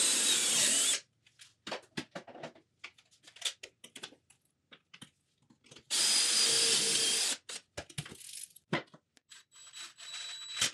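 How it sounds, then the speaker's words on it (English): Two loud bursts of power drilling bolt holes in wood, each about a second, separated by clattering handling noises and small clicks and taps. "I marked and drilled the two holes for the bolts"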